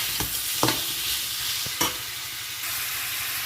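A spiced mixture of garlic, salt and chili powder fries in a pan, with a loud, continuous sizzle and a few scraping stirs of a utensil against the pan, close up and free of talk.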